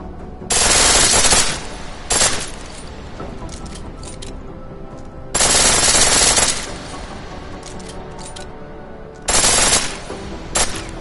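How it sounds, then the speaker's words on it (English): A pistol fires on full auto in Deus Ex: Mankind Divided, loud and close, in three sharp rapid bursts. Short gaps of quiet fall between them, with a few stray clicks and taps. "The pistol in full auto will take down targets fast, but it'll burn through your ammo."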